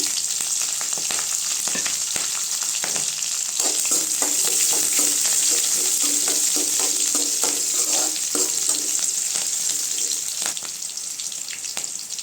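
Curry leaves, onion and green chilli fry in a pan for a Tamil cabbage kootu, giving a steady close sizzle with stirring scrapes throughout and no talking.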